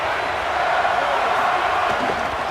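Stadium crowd roar in the College Football 27 video game during a Michigan versus Ohio State matchup, a dense, steady wall of cheering that stays loud throughout with no distinct talk over it.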